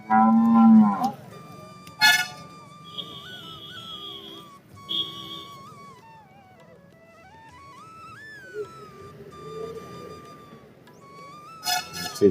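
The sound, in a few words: Murrah buffaloes lowing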